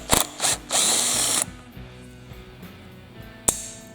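A number 27 Torx driver backs the anti-rotation screw out of a curved-shaft Stihl trimmer, heard as short bursts of ratcheting mechanical whir. Quiet clicks and handling noise follow.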